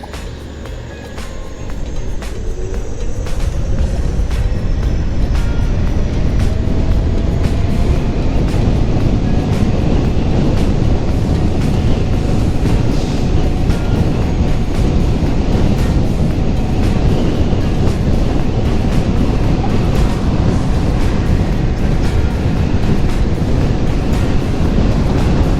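Riding an Ola S1x Plus electric scooter at top speed in sports mode yields a loud, continuous roar of wind and road rush that builds over the first seconds and then holds steady, with no talking.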